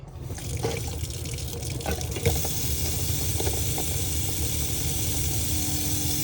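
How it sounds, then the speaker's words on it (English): Hot water runs steadily from a tap on a Ci Carioca 50 installation, giving a continuous close hiss and splash with a faint low hum underneath. "turn the tap to the left for the hot, and then just draw the water through."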